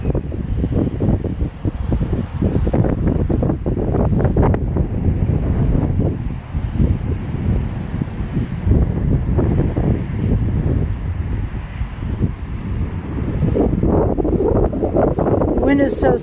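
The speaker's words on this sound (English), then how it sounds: "The wind is so strong." Strong wind gusting across a military cemetery at Fort Ethan Allen in Colchester, Vermont, a loud, continuous buffeting roar against the microphone that barely eases throughout.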